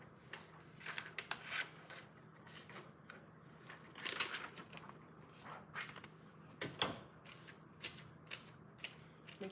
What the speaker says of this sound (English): I'm just going to cut a part of a transparent sheet